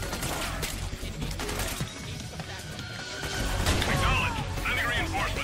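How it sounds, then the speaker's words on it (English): A stun grenade goes off in the video game Metal Gear Solid 4, a sharp crash with scattered bursts and rattling debris, while players talk over the action. "Oh, stun grenade."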